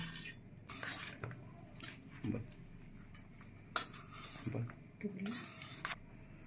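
A spoon mixes crumbled paneer filling with butter in a bowl, giving scattered clinks and soft scraping strokes at close range, with quiet gaps between bursts and a faint voice in the background.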